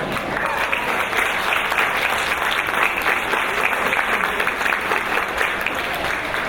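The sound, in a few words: audience applause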